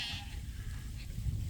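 Sheep bleating in a field, a faint, brief bleat over low background rumble, somewhat distant, with no talking.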